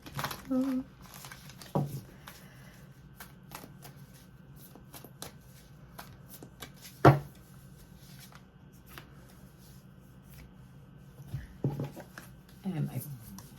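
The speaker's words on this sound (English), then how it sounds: "So let me shuffle these cards." A deck of Spirit Animal Oracle cards is shuffled by hand in a few brief, crisp riffling bursts spread across quiet pauses, close to the listener.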